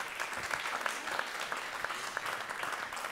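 An audience claps for a band, steady crowd applause with distinct individual claps standing out, moderately loud and continuous.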